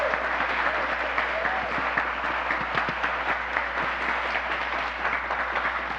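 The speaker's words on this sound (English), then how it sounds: "Let's give a round of applause again for our special guest" An audience applauds a guest jazz musician at a gathering, a sustained wash of clapping, even and full throughout, with no voices over it.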